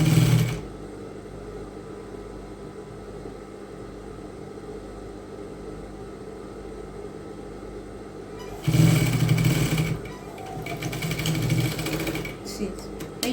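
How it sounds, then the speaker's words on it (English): Sewing machine stitching the seam of an off-shoulder bustier, a steady mechanical whir that runs in louder bursts at the start and near the end, with a quieter hum in between. "Make sure you are sewing on the allowance that you left."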